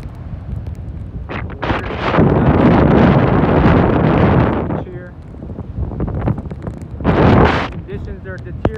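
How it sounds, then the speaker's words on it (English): Strong gusting wind buffets the microphone at a beach during Tropical Storm Eta, roaring in loud surges with a brief lull before another heavy blast. "The wind's whipping pretty good."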